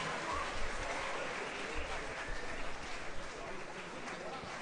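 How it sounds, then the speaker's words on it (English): Applause rises from the audience at a school Teachers Day morning assembly in honour of the singers, a steady, dense wash of clapping that holds throughout with a low rumble beneath and some murmur mixed in. "Can we have another round of applause for our extraordinary singers and their breathtaking voices?"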